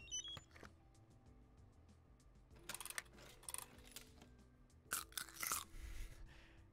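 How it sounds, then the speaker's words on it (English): Stale gummy bears crunch under chewing in clustered bursts, close and fairly quiet, with pauses between bites. "Gummy bears are not supposed to crunch."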